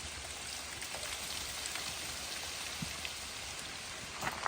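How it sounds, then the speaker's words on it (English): Steady dripping and pattering of melting ice, sounding like a light rain falling on surfaces nearby, continuous and soft throughout. "What sounds like rain is not rain. It's just all of the ice melting."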